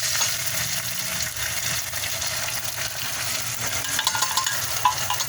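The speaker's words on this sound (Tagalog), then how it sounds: "Sunod natin yung kamatis. Gisa-gisa muna. Susunod na natin yung sardinas." Tomatoes and sardines sauté in a pan for a Filipino sardine and vermicelli dish, giving a steady close sizzle with faint stirring scrapes throughout and no talking.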